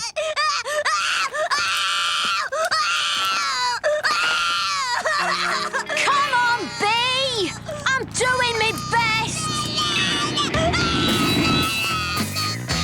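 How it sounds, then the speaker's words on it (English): A cartoon child wails and cries loudly and continuously, sobbing in drawn-out moans while another person speaks over it at times. "What's all that crying about then?"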